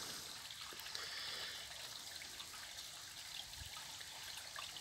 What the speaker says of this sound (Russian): Водичка шумит потихоньку.